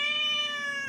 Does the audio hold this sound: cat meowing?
yes